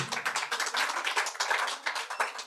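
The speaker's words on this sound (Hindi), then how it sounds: "जोरदार ताली होता है भाई के लिए" A small audience at a poetry recitation claps in distinct, slightly uneven bursts of sharp hand claps, close and moderately loud, with no talking.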